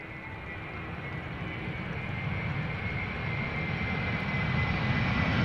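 At Amsterdam Schiphol Airport, a landing airliner gives a steady, growing jet roar with broad engine rumble, loud and continuous, with no talk.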